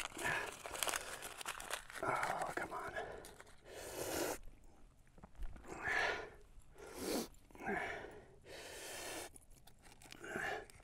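Wet paper being crumpled and torn by hand outdoors in the cold while preparing a fire with a magnesium fire starter, close crinkling bursts coming in several uneven waves with quiet breaths between.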